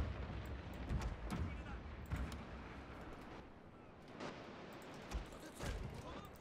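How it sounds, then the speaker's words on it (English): Cannon fire rumbles in the Shogun 2: Total War strategy game, repeated deep booms over a dense battle din, with low talk beneath. "We have to use our cannon to try and sink them a bit."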